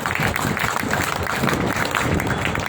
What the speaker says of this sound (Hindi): इनके लिए एक बार जोरदार तालियों से स्वागत किया।